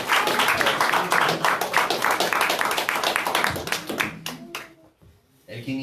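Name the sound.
congregation clapping, applause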